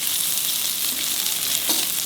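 Onions sizzle and fry in a pan for a prawn chutney, a dense, steady hiss filling the clip, close and moderately loud with no voices.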